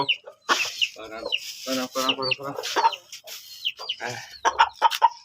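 Hens and a fighting rooster cluck and call in short, rising bursts at close range, fairly loud, with brief gaps between outbursts.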